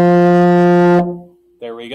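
A euphonium holds a sustained low F for about a second, rich and loud, then cuts off; a voice starts speaking just after.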